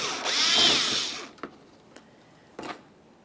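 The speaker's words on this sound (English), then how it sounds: "you're going to find a Phillips head screw on each side of the front bumper cover" A power drill backs a Phillips head screw out of the front bumper cover of a 2010-2013 Kia Forte Koup. A loud whirring burst lasts about a second, followed by a few sharp clicks and taps.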